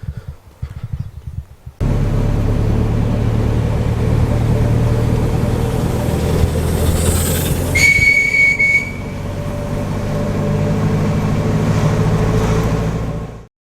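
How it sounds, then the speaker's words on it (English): A small steam locomotive runs with a steady rumbling chug and a bright whistle blast partway through, fairly loud and close, heard alone without talk. "Maybe I'll go and see where that little steamer's ended up."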